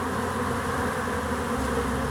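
Honeybees swarm around a busy hive heavy with incoming pollen, a dense, steady buzzing drone from many insects close by that holds at an even level throughout with no voices.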